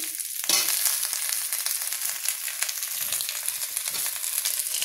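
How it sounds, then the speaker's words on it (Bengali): Potato, taro and radish sizzle steadily in a hot pan of oil for a Bengali-style chachra, a dense continuous crackle that flares briefly near the start and carries on alone without talk. "এটা আমি নিয়ে নেবো ভালো করে, হালকা ভেজে নেবো"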